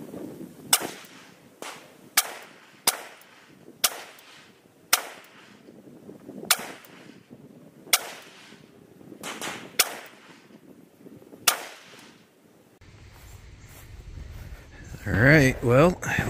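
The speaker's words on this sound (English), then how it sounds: "we'll take some more shots down here at that 50-yard target" Rifle shots fired at a 50-yard target from a gun fitted with a CVLIFE red dot sight ring out outdoors, about a dozen sharp cracks at uneven intervals, each followed by a short echo, ending with wind noise and brief talk.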